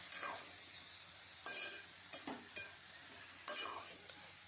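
Brinjal pieces stirred in a pan for a tomato eggplant curry, a soft steady sizzle broken by a few scraping stirs of a spoon, close up with no talking.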